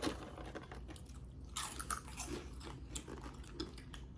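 Crunchy Hot Cheetos being bitten and chewed up close, a run of crisp crunches and smacking bursts over a few seconds with no talking.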